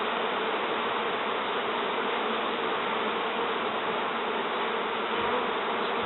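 Dense, steady humming of a crowded honey bee colony inside a Wormwood Dalek hive full of comb, loud and continuous without a break, with no voices.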